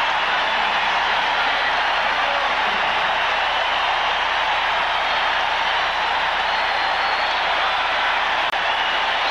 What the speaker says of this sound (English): the crowd hasn't stopped cheering yet